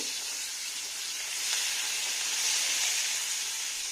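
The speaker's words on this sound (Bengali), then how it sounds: "মাছ ভাজা করছি।" Close, continuous sizzle of fish frying in hot oil, a steady bright hiss that swells slightly midway, with no speech.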